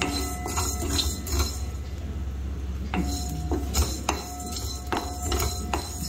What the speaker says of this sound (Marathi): एकसारखे हलवत राहायचं म्हणजे धने छान भाजले जातात.